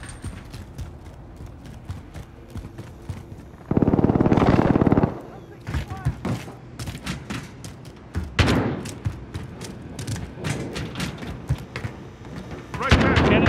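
Gunfire rattles through a Kill Confirmed match of Modern Warfare on the Petrov Oil Rig map: sharp, irregular shots throughout and a dense sustained burst near the start, with players' voices calling out over the shooting.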